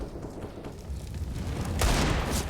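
Gunfire from a pro Counter-Strike match on the Inferno map at IEM Katowice 2023: loud, dense overlapping shots and bursts roll on with no pause, building near the end.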